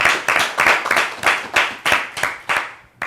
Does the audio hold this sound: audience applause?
yes